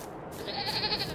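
Goats in the Farming Simulator 22 video game let out a short, wavering bleat. It rises over a steady background hum.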